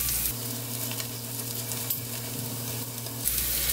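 Takoyaki with octopus and chopped green onion fry in a takoyaki pan, a continuous close sizzle with light scraping as the balls are turned, and a brief hum underneath.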